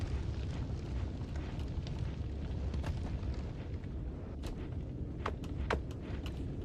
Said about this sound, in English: Has a lot of fire.